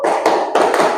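Three quick bursts of hand clapping, loud and close, come in a short counted group with brief gaps between them.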